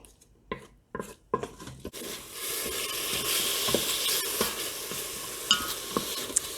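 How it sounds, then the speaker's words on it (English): Bacon sizzles and crackles steadily in a Fissler pressure cooker insert, starting after a few scrapes and clatters, with occasional utensil taps and stirring scrapes against the pan, close and continuous, no talking. "that will get this bacon cooking"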